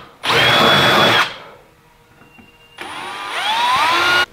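A power drill bores into the edge of a wooden workbench top in two loud, close whining bursts separated by a short pause.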